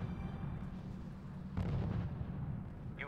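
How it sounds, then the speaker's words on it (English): Mobile artillery fires in the video game RUSE as a single deep, booming blast that rolls out over a low rumble, fairly distant and muffled. "Sir, mobile artillery are preparing to fire on the city."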